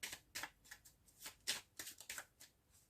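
Tarot or playing cards shuffled and cut for a reading, a quick series of soft, close riffling flutters and slaps in an irregular rhythm, quiet and without talk.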